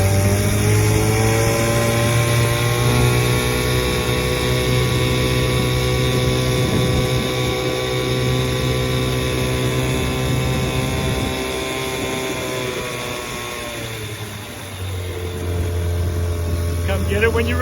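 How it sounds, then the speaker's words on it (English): A restored vintage outboard motor pushes a 14-foot Feathercraft boat across the water, its loud, steady engine drone running continuously, dipping briefly as the throttle eases, then picking back up. "Well, that was fun running that outboard motor."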